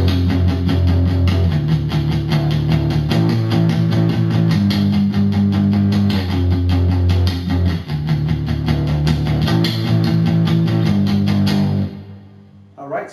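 A palm-muted electric guitar plays the outro of a song: loud, chugging distorted chords in a steady repeating progression that cut off near the end.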